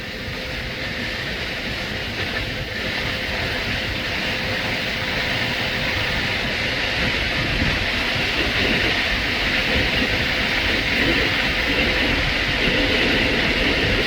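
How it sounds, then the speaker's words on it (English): An Amtrak Sunset Limited passenger train rolls past on tracks crossing a newly installed diamond, giving a steady, loud, continuous rumble and rail roar throughout, with no voices. "this Amtrak coming down the tracks is the very first train to cross this new diamond"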